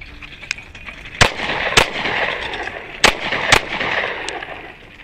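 Four sharp, loud pistol shots from a Wilson Combat SFX9 at an outdoor shooting range, in two pairs spaced roughly a second apart, with some faint ambient noise between them and no talking.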